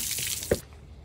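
Water pours from a tap to measure out gallons for a crawfish boil, a close, brief rush that cuts off abruptly after about half a second and leaves quiet behind.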